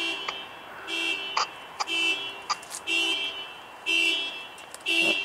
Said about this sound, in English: Now that car alarm's gonna be going off.